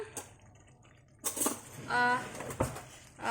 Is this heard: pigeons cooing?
no